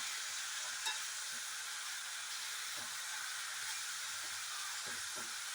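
Bitter gourd thoran with ginger, green chilli, onion and curry leaves cooking in a pan, a steady soft hiss of frying with faint occasional stirring knocks.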